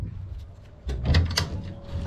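Plastic storage doors on a 2023 Nav Sport Duckworth 20-foot aluminum boat are handled, giving a close clack and rattling knocks after a quiet start.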